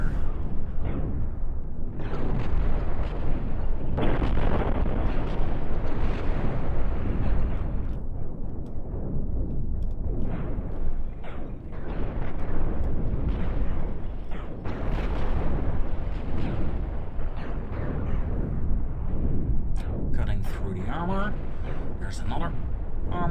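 Spaceship weapons fire and explosions in the Cosmoteer game, dense booming blasts and bursts rolling on in waves at close range, with someone talking throughout over the barrage.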